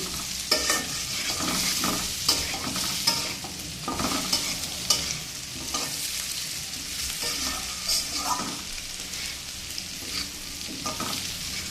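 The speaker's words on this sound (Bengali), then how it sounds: "একটু হালকাই ভাজা দিলাম।" Boiled taro fries lightly in a pan while being stirred, giving a close, continuous sizzle punctuated by repeated scraping strokes of a spatula at an uneven rhythm.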